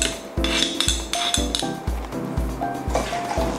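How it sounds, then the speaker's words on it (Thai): A spoon scoops mixed mushroom chili dip into a serving bowl, with a close, regular series of clinks and scrapes against the dishware, about six or seven strokes in quick succession. "นี้เราก็จะตักเสิร์ฟใส่ถ้วยนะคะ"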